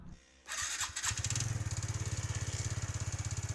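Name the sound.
TVS Ntorq BS6 scooter engine starting and revving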